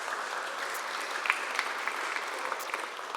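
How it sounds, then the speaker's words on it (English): Conference audience applauding at an ocean conservation event, a steady wash of clapping with a few sharper individual claps standing out, moderately distant and continuous throughout. "I think you deserved a round of applause"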